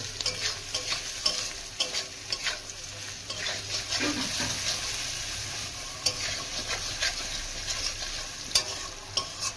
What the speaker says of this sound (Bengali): আদা বাটাটাও ভাজা ভাজা হয়ে গেছে